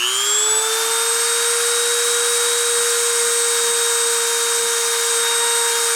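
A friction deposition machine runs at high forging force with a steady, loud, continuous mechanical whine and a high tonal hum that holds level throughout, with no speech.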